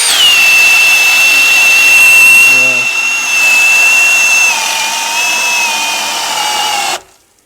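A Milwaukee Gen 4 Fuel hammer drill drills a hole with a loud, close, high-pitched motor whine that holds steady for about seven seconds, dips slightly in pitch partway through, then cuts off abruptly.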